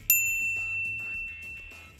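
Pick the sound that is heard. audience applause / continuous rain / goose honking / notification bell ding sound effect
notification bell ding sound effect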